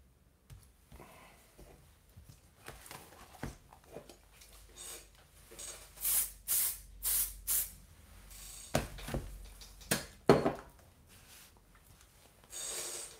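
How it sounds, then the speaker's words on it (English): Fixative is sprayed over a pencil car sketch in several short hissing bursts, close to the mic. Quieter rubbing and handling noises surround the bursts. "Okay, spray fix again."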